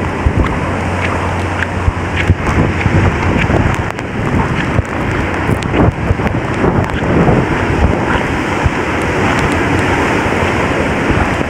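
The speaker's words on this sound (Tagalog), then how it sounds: "Palakas ng hangin." Strong wind during Typhoon Tino among fallen trees and houses, loud steady gusting that buffets the microphone throughout with no voices.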